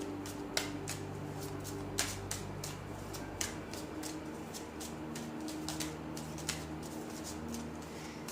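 Tarot cards being shuffled, a soft papery riffle with sharp little flicks and snaps scattered across the whole stretch over a low steady hum, fairly quiet and without talk.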